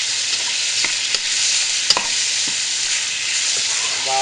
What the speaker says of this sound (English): Now I'm going to give this a stir